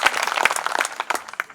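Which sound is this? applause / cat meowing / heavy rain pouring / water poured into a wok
applause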